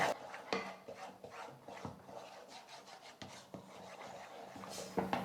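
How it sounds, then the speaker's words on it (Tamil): Halwa made from cooked rice gets mixed with orange food colouring, a soft, close rubbing and scraping of a spoon through the thick mixture that goes on without a break, with a few faint knocks and no voices. "ஃபுட் கலரையும் சேர்த்து நான் வந்து மிக்ஸ் பண்ணிக்கிட்டேன்"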